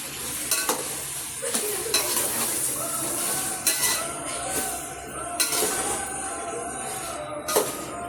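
Chicken goes into a hot pan of sizzling tomato, onion and green chilli, with a continuous loud frying hiss broken by repeated scrapes and clinks of a spoon stirring against the metal.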